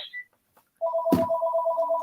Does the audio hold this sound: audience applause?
no